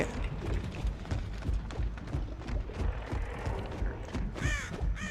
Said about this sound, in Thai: อีกา มันเพิ่งบินเนี่ย